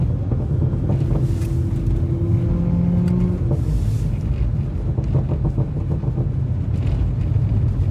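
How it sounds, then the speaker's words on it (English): Audi S4 Quattro driving on snowy roads in a blizzard, a continuous low engine and exhaust rumble close to the microphone with faint popping and crackling over the droning road and wind noise, no talk. "Hear the exhaust crackling."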